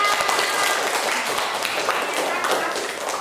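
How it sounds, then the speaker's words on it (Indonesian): A fifth-grade class in a school classroom claps together, a lively burst of many small hands with some tapping and thumps, while a teacher's voice is heard over the clapping. "Oke, beri tepuk tangan dong buat kita semuanya."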